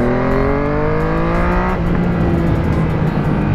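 Yamaha MT-09 motorcycle with an aftermarket exhaust revving close and loud, pitch climbing steadily and then settling into a rough, sustained high-rpm drone.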